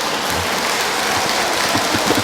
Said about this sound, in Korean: 왜 박수를 치고 그래요?